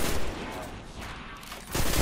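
Gunfire in the video game Destiny 2 during a tank mission, a dense burst of rapid shots opening, easing into a softer rumble, then another loud burst at the end.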